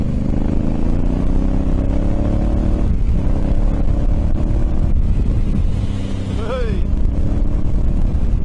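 Honda Africa Twin motorcycle cruising at about 100 km/h, a steady engine drone mixed with heavy wind rush across the whole stretch, with a short spoken word near the end.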